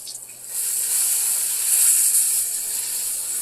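Bacon sizzles in a pan at breakfast, a bright continuous hiss that swells after a brief moment and holds steady and fairly loud, with no talking.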